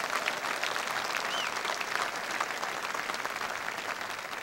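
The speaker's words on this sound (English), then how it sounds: "let's give them a big round of applause to all the parents and families who made this day possible" A large commencement crowd at Rice University breaks into sustained, thick applause for the graduates' parents and families, a steady wash of many hands clapping at an even level throughout, with no voices on top.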